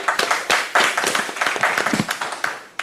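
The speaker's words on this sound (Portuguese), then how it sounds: "Você está sendo aplaudida aqui" An audience claps for a speaker after a talk on psychosocial factors and mental health at work, a dense burst of applause with many hands clapping at once, moderately loud and steady for a few seconds.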